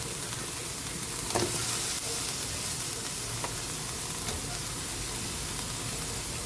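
Okra dropped into a hot frying pan for pinakbet, a loud, steady sizzle and hiss of frying with a few soft knocks and stirring scrapes under the crackle.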